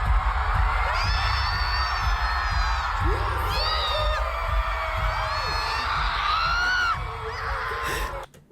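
A large concert audience at a world tour show in LA screams and cheers continuously, with high shrieks rising in repeated waves over loud amplified music and crowd roar.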